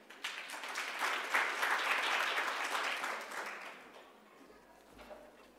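An audience claps steadily at a talk on children's dental decay in the Kimberley, Western Australia, swelling quickly to a full, even roar of applause before tapering off to a few scattered claps.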